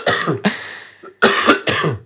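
Several sharp, close coughs in quick succession, with a short pause before the last two.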